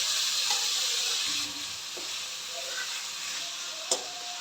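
Tomato cubes hit fried garlic and ginger in a pan for sour eggplant curry, giving a steady bright sizzle throughout, with a few soft clinks of stirring and one sharp tap near the end.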